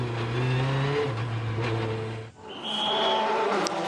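Volkswagen Polo R rally car at the 2013 Monte Carlo Rally setting off, engine revving loudly through gear changes, a brief drop-off, then a high whining rev as it pulls away, close and clear.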